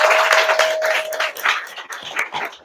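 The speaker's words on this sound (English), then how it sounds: "Can we please give our wonderful presenters another round of applause?" An audience at a voting rights teach-in applauds, a dense patter of clapping that gradually thins out, with a brief tone ringing through the first second.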